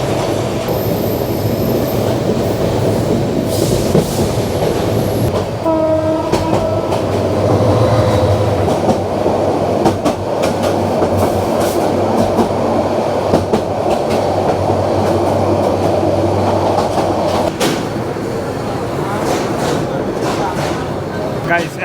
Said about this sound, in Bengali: এখন আমাদের ট্রেন প্রবেশ করলো আমাদের যাত্রার প্রথম এবং শেষ স্টপেজ ঢাকা বিমানবন্দর রেলওয়ে স্টেশনে।